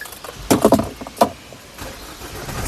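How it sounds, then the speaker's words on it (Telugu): Push-button start of a 2019 Mahindra XUV300 W8 AMT, a short cranking burst that catches quickly and settles into a quiet idle, heard close. "సింగిల్ సెల్ఫ్లో కార్ స్టార్ట్ అవుతుంది ఎటువంటి స్టార్టింగ్ ట్రబుల్ అయితే లేదండి"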